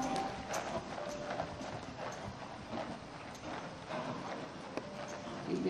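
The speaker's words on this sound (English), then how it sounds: "And when you're ready, Chris, let's have you canter once around the circle." Horse cantering around a circle in a riding lesson, a steady three-beat clip-clop of hooves on soft ground, close and continuous, with a faint voice in the background.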